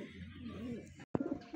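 A pet pigeon (kalapati) coos softly close by in low, rolling throaty phrases, broken by a short gap and a few sharper sounds toward the end.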